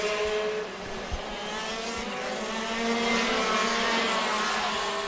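Race cars, likely shifter karts, roar past on the track at a night racing event, a dense steady engine drone with shifting pitch and no talk.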